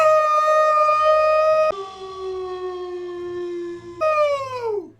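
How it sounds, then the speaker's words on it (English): A wooden cigar-store Indian statue come to life in the 1987 horror film Creepshow 2 lets out a loud, sustained howl that holds steady, drops to a lower pitch, then rises again before trailing off in a falling wail. "And then he just starts to howl."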